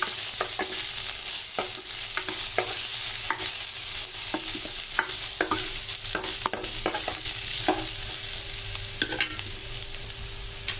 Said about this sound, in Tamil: இதில் வெங்காயம் 1, கறிவேப்பிலை இதை போட்டு நல்லா வதக்கிடலாம்.